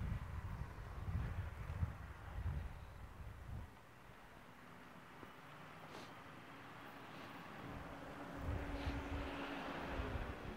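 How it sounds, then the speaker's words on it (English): Strong wind buffets the microphone of a Hubsan Zino Mini SE drone flying near a cliff, a low rumbling roar that surges and eases in gusts over a faint steady hiss, with no voices. "Just too much wind."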